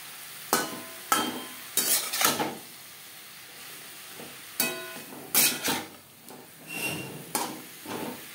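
Boiled potatoes and tender pumpkin stalks fry with spices in a pan, stirred in a series of short scraping, sizzling strokes separated by quieter gaps, heard up close and alone.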